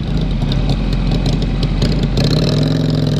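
Harley-Davidson Sportster motorcycle engine running loud in traffic, a throaty rumble with rhythmic pulses that swells slightly as revs rise near the end.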